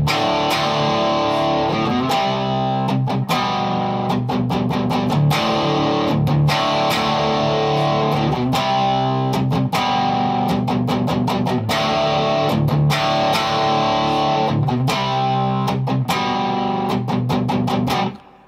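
A heavily distorted electric guitar chugs through a palm-muted riff from the chorus of a song, with tight, choppy rhythmic stops, loud and continuous with no voices.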